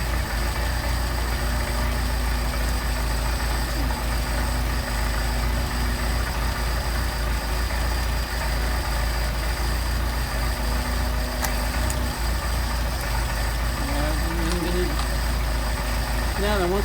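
A Mercedes 190SL engine with Solex carburetors idles steadily up close, a constant low rumble that fills the whole stretch, with someone talking over it.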